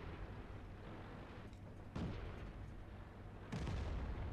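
World of Tanks battle with two heavy booming shots, one around the middle and a stronger one near the end, each a sudden low burst over a steady rumbling background.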